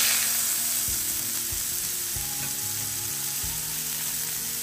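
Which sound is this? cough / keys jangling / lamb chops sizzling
lamb chops sizzling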